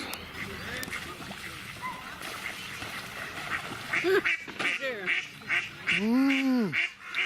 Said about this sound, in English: let's go and have a look at the ducks